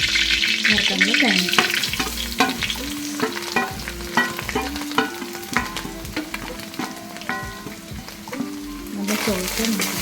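Red chilli and curry leaves fry in hot oil in a pan, crackling and sizzling in sharp pops close by, with a voice speaking over the frying.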